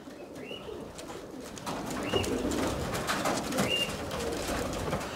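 Pigeons coo softly over a steady background of outdoor noise, with a few drawn-out calls spread across the stretch.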